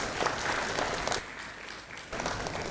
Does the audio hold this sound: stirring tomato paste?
no